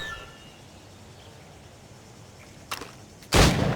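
Gunshots ring out at targets in the game Assassin's Creed Rogue: a short crack, then a much louder broadband blast after a quiet stretch with faint ambient bird chirps.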